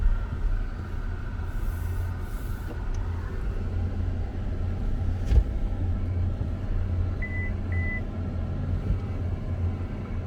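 MG Gloster SUV in mud mode rolling into mud, a low steady engine and tyre rumble from inside the cabin with a brief thump midway and a couple of faint electronic beeps.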